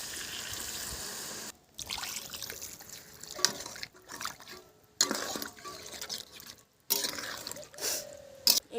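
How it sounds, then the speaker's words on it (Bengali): Water is poured into a cooking pot for a thin snakehead (shol) fish curry. The trickle and splash come in several separate pours with brief silent gaps between them, fairly faint and close. "জল ঢেলে দেবো।"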